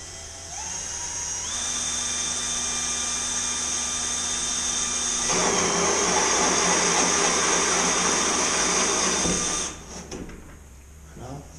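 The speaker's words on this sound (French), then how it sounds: "Là je vais percer petit, puisque c'est pour juste un tuyau, un fil des fils électriques" Power drill boring a small hole through IKEA furniture panel for electrical wiring, a loud steady whine that holds for about nine seconds, shifts pitch partway, then cuts off.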